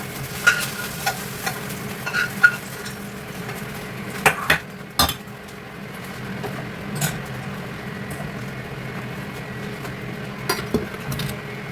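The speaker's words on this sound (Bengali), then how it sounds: "মাছের তেলেতেই এটা ভেজে নিচ্ছি" Frying something in leftover fish oil in a home kitchen, a steady soft sizzle running throughout with several sharp utensil scrapes and clinks against the pan.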